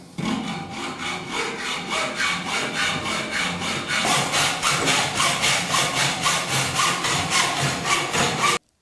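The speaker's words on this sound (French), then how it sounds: "ensuite on va couper à la scie à métaux" A hacksaw cuts through an aluminium floor profile in quick, even back-and-forth strokes, close and loud, the rasping rhythm speeding up in the second half before stopping abruptly.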